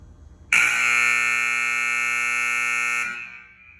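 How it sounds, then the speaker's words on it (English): Basketball scoreboard auto horn blares suddenly, a loud, steady harsh buzz holding for about two and a half seconds before fading, with a quiet room before it. "Let's watch the time and see if the auto horn goes off in about 5 seconds."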